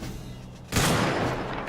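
In a video game, a sudden burst of loud gunfire starts about halfway through, a dense sustained volley that continues to the end with no talking.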